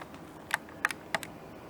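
Typing on a computer keyboard at a home computer station, a few sparse, faint clicks of individual keys pressed slowly in small clusters, with no talk.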